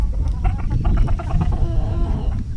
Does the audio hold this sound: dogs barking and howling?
no